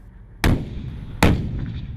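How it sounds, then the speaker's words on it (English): A Stryker mobile gun system's cannon fires two loud, sharp blasts less than a second apart, each a sudden close crack followed by a rumbling decay, with no voices. "a Stryker mobile gun system with a massive cannon that packs a big punch"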